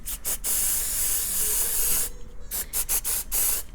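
Apple Garde protector sprayed onto a Louis Vuitton bag, a long steady aerosol hiss followed by several short bursts, close and clear with no talking.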